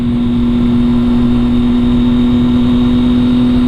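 A motorbike engine hums steadily at a constant pitch while being ridden, loud and close with a droning tone and no talking.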